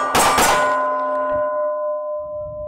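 A bullet strikes a steel gong target at a range, giving one loud metallic clang that rings on with a sustained tone slowly fading over a few seconds, with faint low rumble near the end.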